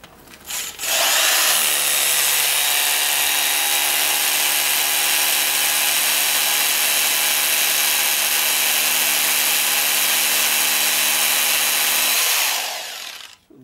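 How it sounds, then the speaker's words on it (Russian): A loud Makita HR2611FT rotary hammer drill spins up and grinds steadily for about ten seconds, then winds down to a stop. "Ну, теперь проверим перфоратор в действии."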